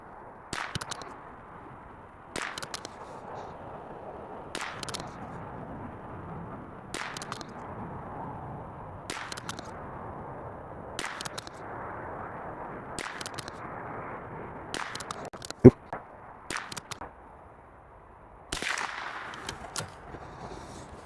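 Ruger RPR rimfire .22LR rifle fired in freezing outdoor cold, a steady series of about a dozen sharp cracks spaced a couple of seconds apart over faint background hiss, with no talk.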